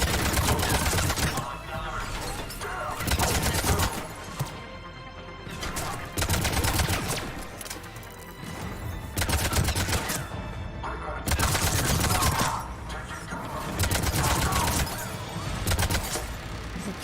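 An automated turret fires in Mass Effect 3, rapid bursts of gunfire that come in loud clusters with short gaps between them, mixed with other battle noise.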